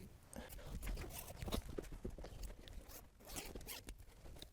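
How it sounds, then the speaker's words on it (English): A zip is drawn open along the top of the cover on a 2nd-generation Emma Original UK foam mattress, a close, steady rasping run lasting several seconds, with small rustles of fabric and handling alongside. "You can see how lovely it is that it unzips from the top"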